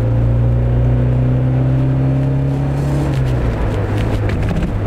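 Porsche 924 Le Mans from 1980 driving on the road, its engine droning loud and steady at a constant pitch, then easing off toward the end amid road and wind noise.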